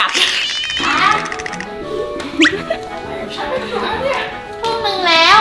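A cat meows repeatedly at close range inside a house, with several drawn-out, rising and falling cries over a few seconds, and a little background voice between them.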